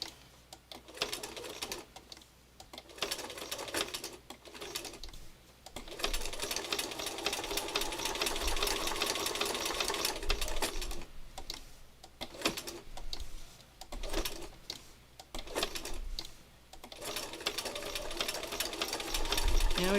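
A sewing machine stitching around a tight curve runs in short bursts of rapid mechanical whirring, broken by frequent pauses, with a voice talking in between.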